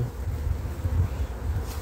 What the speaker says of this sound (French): un petit peu d'abeilles